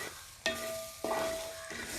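Grated fresh coconut stirred and roasted in a pan for a curry-leaf chutney, soft dry sizzling with three distinct scrapes of a spoon against the pan, close and quiet.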